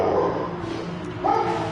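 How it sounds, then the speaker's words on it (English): A big fluffy pet dog barks and yips in a couple of quick bursts, loud and close, with no talking over it. "I think your dog wants attention there"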